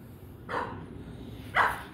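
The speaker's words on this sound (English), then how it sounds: "Crazy dogs barking." Dogs barking at a dog park: two sharp, loud barks about a second apart over low background murmur, fairly close to the listener.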